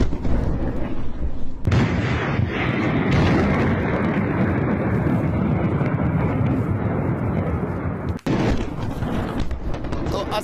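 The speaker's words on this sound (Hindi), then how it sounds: "धमाके की आवाज भी लगातार वहां से सुनाई दे रही है। सुनिए आप।" A dense, continuous roar of rumbling blasts and booms from an airstrike on a port in Syria runs throughout, loud and heavy, broken by a sudden sharp crack near the end; no clear speech.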